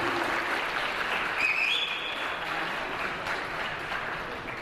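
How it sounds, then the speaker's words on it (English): A crowd applauds at the launch event for Rhoss Gulf, an Italian company's UAE branch, a sustained even roll of clapping with a few whoops and whistles, steady throughout and fading slightly at the end. "So let's have a huge round of applause for all of them"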